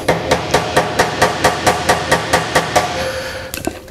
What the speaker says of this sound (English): take this little stainless bead and hammer it down flat on a metal table or an anvil